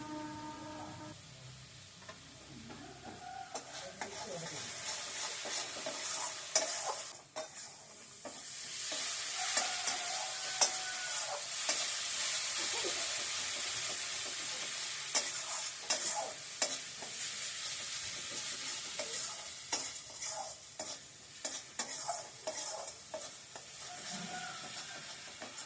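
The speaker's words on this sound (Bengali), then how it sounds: "আরেকটু কষালে যত কষাবো ততই ভালো লাগবে" Spice paste for a boal fish curry is fried in oil in a pan, its steady frying hiss joined by frequent scraping stirs of a spatula, close by and continuous, with no voices.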